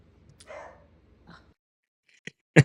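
A dog barks several times, short and fairly close, with quiet pauses between the barks during an indoor interview with a real estate agent.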